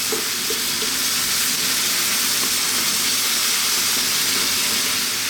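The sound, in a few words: pork and vegetables stir frying over maximum heat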